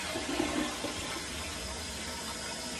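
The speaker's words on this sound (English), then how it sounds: "You flushed the toilet." A toilet flushes in a steady rushing wash of water, fairly close and continuous, with no voices over it.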